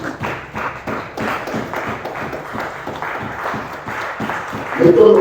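A church congregation claps together during a thanksgiving service, the applause a dense, rhythmic patter that lasts throughout, with voices and crowd noise mixed in and a brief louder swell near the end.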